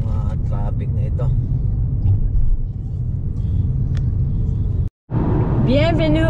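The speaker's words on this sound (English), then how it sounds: "Talagang mahaba-haba itong traffic na ito." Low, steady road rumble from dense stop-and-go traffic with trucks on a highway near Quebec City, heard from inside a vehicle, with people talking over it and a brief dropout near the end.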